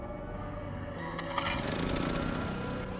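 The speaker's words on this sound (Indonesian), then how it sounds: "Dan bor pun langsung dihidupkan." A power drill in a horror film starts up and runs with a harsh, buzzing whine that grows rougher and louder after the first second, continuing steadily to the end.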